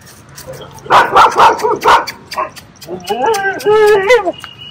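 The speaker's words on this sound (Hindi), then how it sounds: "हाँ, तू क्यों भौंक रही है?" A Rottweiler barks several times in quick succession, then lets out a drawn-out whining, yelping cry, close and loud.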